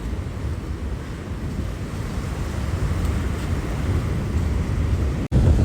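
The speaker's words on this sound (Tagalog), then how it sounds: "Ayan guys, yung waves." Ocean surf at a seaside rolls in as a continuous loud wash with wind buffeting the microphone, no talking.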